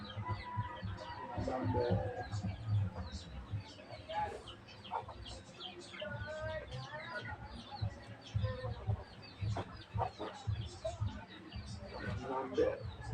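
A hen clucks steadily ahead of laying an egg, her voice close and insistent. Other birds chirp around her and a person speaks briefly partway through.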